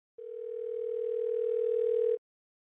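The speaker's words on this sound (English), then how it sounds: "I have for you now the audio recording of the phone call between Kathy and Denise." A steady, loud telephone dial tone at the start of a recorded phone call, holding unbroken for about two seconds and then cutting off into silence.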